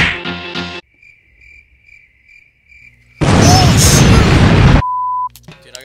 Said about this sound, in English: The tanks explode.